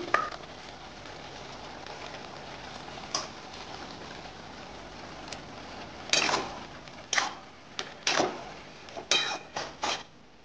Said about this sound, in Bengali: চিড়েটা আমি এবারে দিচ্ছি।